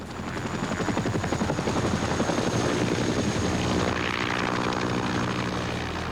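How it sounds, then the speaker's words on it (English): A Huey helicopter flies close by with a loud, rapid rotor thump and a steady turbine whine, a continuous pulsing beat that holds strong for the whole stretch. "The helicopter was the sound that the grunts hated the most and loved the most."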